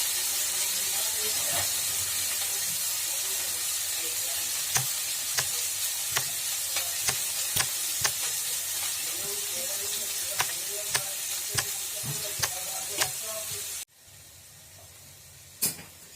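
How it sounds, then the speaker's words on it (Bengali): Onions frying in hot oil for a cauliflower curry with bhetki fish, a steady close sizzle and hiss with scattered sharp clicks from stirring, ending abruptly near the end with a brief knock after. "পেঁয়াজগুলো তেলের মধ্যে ভাজতে দিয়েছিলাম পেঁয়াজটা ভাজা হয়ে গেছে"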